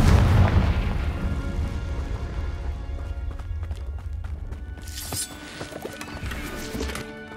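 A Confringo blasting spell explodes in the video game Hogwarts Legacy, a heavy boom at the start that rumbles and slowly fades, followed by running footsteps and scattered game effects.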